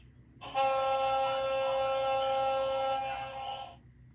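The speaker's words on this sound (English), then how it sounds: "Ferry." A ferry's deep horn blares in one long, loud, steady blast lasting about three seconds before cutting off, with low background rumble around it.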